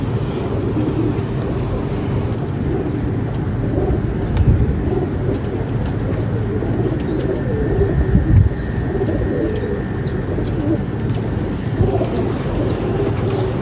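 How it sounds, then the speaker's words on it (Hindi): A Jonsera Neeldumba pigeon cooing amid steady outdoor background noise, its low soft coos repeating faintly over a continuous hum, with no one talking. "जौनसिरा नीलदुम्बा कबूतर है"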